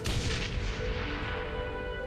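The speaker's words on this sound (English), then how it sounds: "As the sound of the gas explosion fades, you hear the tromp of boots in the distance." A gas explosion in the video game Shadowrun Hong Kong gives a dense, rumbling blast that fills the whole clip and stays broad and heavy, slowly thinning without a clear tail.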